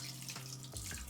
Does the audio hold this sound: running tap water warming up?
yes